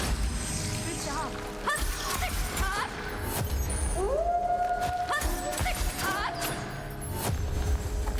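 A creature howls in the video game Echoes of Aincrad, a long rising wail that holds steady for several seconds over busy game sounds, with other short yips and cries around it.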